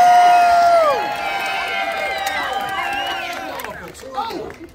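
Crowd cheering and whooping at a Halloween mud show at the Texas Renaissance Festival, with many overlapping voices that are loud at first and then settle into a busy, fading roar.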